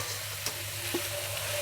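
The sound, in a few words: stir-frying chayote and carrot with fresh grated coconut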